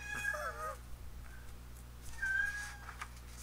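A kitten meows twice, high and thin, with a pause between cries, heard over a low steady room hum with no talking.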